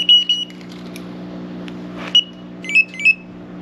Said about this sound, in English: I forgot that I put an alarm on the KTM.